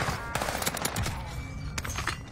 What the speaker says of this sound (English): Shooting at me now.